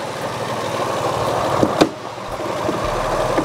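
Mahindra XUV300 AutoShift with its 1.2-litre three-cylinder turbo petrol engine running under an open hood, a steady close idle drone with a brief clunk partway through and no talking.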